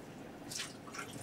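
Salad greens being rinsed in filtered water, giving soft drips and gentle splashing in two short bursts against a quiet background.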